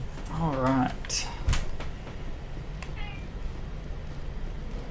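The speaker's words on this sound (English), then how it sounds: "Don't mind my cat." A pet cat meows close by during a Mass Effect game session, a wavering drawn-out cry followed by short chirpy calls. Quiet background hum and a faint knock.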